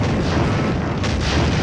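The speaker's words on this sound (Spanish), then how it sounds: "Eso significa que nos van a meter de cañonazos" Booming cannon blasts from a ship stage in Pac-Man World Re-Pac, a steady barrage of heavy low explosions filling the whole stretch with no pause.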